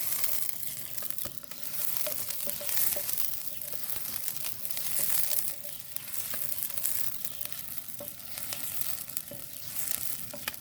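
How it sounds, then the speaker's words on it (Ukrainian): Chopped onion fries in a pan on a BLACKSTOVE PICNIC outdoor stove, stirred with a wooden spatula: a steady close sizzle runs throughout, broken by light scraping and occasional soft taps of the spatula, with no talking. "Легенько помішуємо цибульку до золотистої скоринки."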